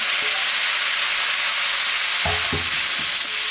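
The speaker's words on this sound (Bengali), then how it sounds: "এখন আমি কাঁঠাল আর একটা আলু দিয়েছি" Jackfruit and potato pieces frying in oil in a pan, a loud steady sizzle close up, with a few low thumps of stirring or the utensil against the pan in the second half and no talk.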